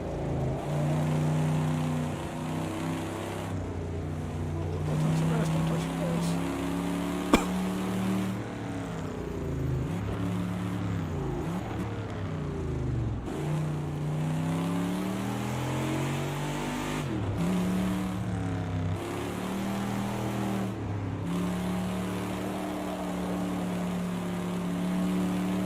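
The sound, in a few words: race car skidding through a turn in a video game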